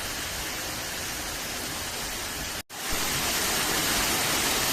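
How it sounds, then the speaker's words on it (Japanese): Ryuo waterfall in Fukuoka, with a ten-metre drop, roars as a steady, loud, dense rush of falling water that continues alone throughout, broken only by a brief cut partway through. "竜王の滝。"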